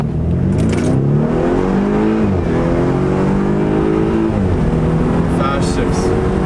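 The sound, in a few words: BMW 428i M Sport with muffler delete accelerating and shifting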